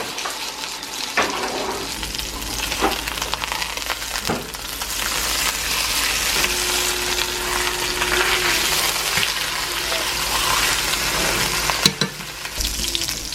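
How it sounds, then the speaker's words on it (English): Chuck roast searing in a hot pan for beef vegetable soup, a loud continuous sizzle with a few brief knocks and scrapes as the meat is moved, close up, with no talk. "I'm gonna brown this and sear it real good on both sides"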